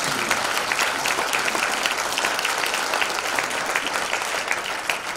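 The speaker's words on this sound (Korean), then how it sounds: "다시 한번 뜨거운 박수로" A conference audience at an elders' meeting gives a warm round of applause, a thick continuous roar of many hands clapping at an even level from start to finish.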